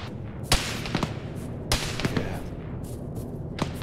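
Distant machine gun fire in the military game Arma 3: sharp scattered shots and short bursts crack at irregular intervals, fairly faint against a low background rumble.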